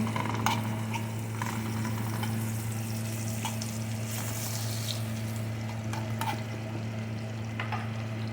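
Spices including chili, bay leaf and cardamom sizzling steadily in oil in a pan for kisna, an Arab dish, with a low constant hum beneath and occasional scraping clicks of stirring, close and alone without talk.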